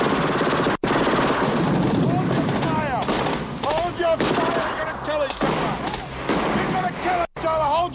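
Sustained automatic gunfire from a firefight in a park, loud and dense throughout with only brief breaks, mixed with shouting voices.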